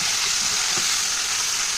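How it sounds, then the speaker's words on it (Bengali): Prawns sizzle steadily in a generous amount of hot oil in a wok for Bengali ol chingri, a continuous close, bright frying hiss with faint low bubbling underneath and no voices. "তো এই দেখো মাছটা ভেজে নেব।"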